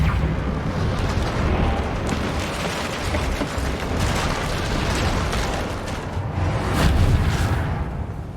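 Hogwarts Legacy's Reparo spell works on a damaged bridge, giving a sustained, dense rushing and rumbling magical swell that holds loud and steady throughout, with a brighter crackling surge near the end.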